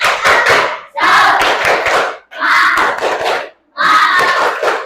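A classroom group doing a rhythmic clapping chant, four loud bursts of clapping with children shouting together, separated by short pauses.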